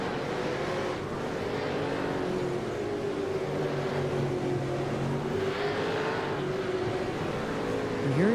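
Racing cars in a sim racing game on the Belle Isle circuit, with a continuous blend of engine drones and shifting pitches as several cars rev and pass, moderately loud and steady, with some faint voice underneath.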